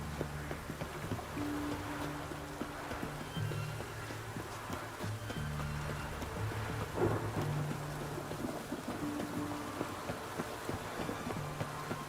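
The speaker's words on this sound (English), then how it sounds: "Witches have conjured rain." Steady rain hisses throughout with low thunder rumbling underneath, peaking in a louder roll midway, under soft ambient tones, from the video game The Witcher 3.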